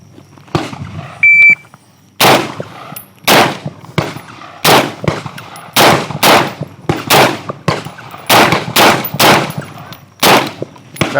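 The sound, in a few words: gunfire from a shooting challenge run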